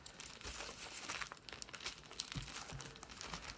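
A heavily taped mail package holding a comic book haul is pulled open, with close, quiet crinkling and crackling plastic in irregular bursts alongside small tearing sounds, and no talk.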